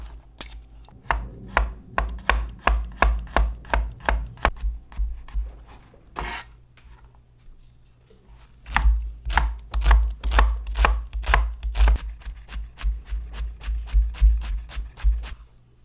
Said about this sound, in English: So I'm gonna slice up some garlic, and then we'll chop up our shallot.